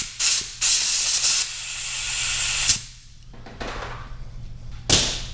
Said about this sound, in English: One thing I forgot to blow out is